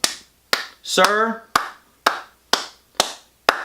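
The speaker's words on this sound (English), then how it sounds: "huge round of applause for you and a salute" Eight sharp, evenly spaced hand claps sound close and loud, roughly two per second, with a brief spoken word breaking in between the second and third claps.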